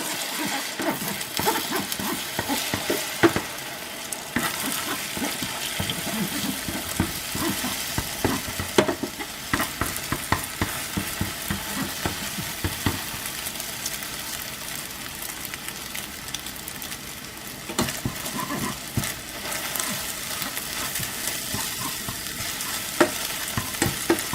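Egg stir-fried in a hot pan for shrimp fried rice makes a steady loud sizzle, with frequent sharp scrapes and clacks as the spatula stirs, running continuously with no talking.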